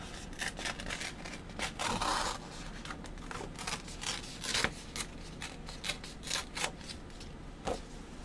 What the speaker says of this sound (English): I might figure out and put a little bit of a rip up at the top